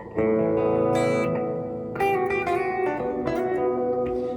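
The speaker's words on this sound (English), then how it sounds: "Now that's a hall reverb." Electric guitar through a Boss GT-1000CORE hall reverb, notes ringing out with a dense, lingering reverb tail, chords struck around two and three seconds blooming into a wide, spacious wash.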